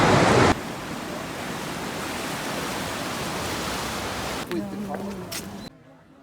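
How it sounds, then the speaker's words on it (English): A waterfall in Switzerland, heard up close as a steady, dense rush of falling water that fills the whole clip, with a brief louder burst at the start and a few faint other sounds near the end before it cuts off. "I'm literally eating next to a waterfall."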